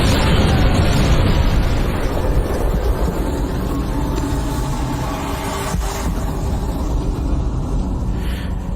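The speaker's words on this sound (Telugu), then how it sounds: "ఆయన అక్కడికి వచ్చిన తర్వాత రెండో బాంబు పేలుద్ది." A bomb blast in a Telugu action comedy film, a loud, dense rumble that gradually fades over several seconds.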